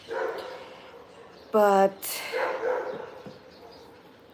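A dog gives a short sharp bark and a yip between quiet bits of speech, fairly close by.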